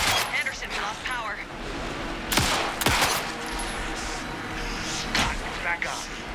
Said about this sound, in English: Anderson, put him down with gunfire for me to get the light on him.